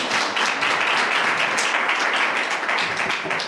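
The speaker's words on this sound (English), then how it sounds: "Can we give one more round of applause for Ted Rogers?" Loud, continuous applause from a poetry reading audience, a thick blend of many hands clapping close by that holds steady from start to finish with no talking.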